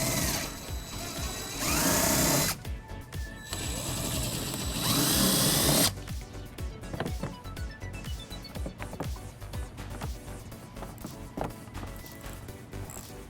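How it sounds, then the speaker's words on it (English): Ratchet with an 8mm socket turning bolts out of the bumper of a 2014 BMW X5, loud bursts of rapid clicking, then slower, more broken ratcheting and faint clunks close by. "we're going to remove using an 8mm socket"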